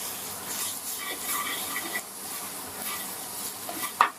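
Dal being stirred with dhania powder and salt in a pan for Punjabi dhaba-style dal makhani, made with black urad dal: a low continuous sizzle with gentle scraping strokes and a sharper knock of the utensil at the end.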